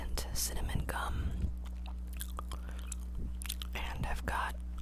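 Soft, moist gum chewing with cinnamon-flavored Trident, close and quiet, mixed with whispered voice and faint mouth sounds over a steady low hum.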